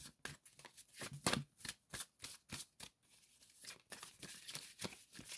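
A deck of playing cards is handled and shuffled, giving soft, quick riffling and flicking bursts in a quiet room.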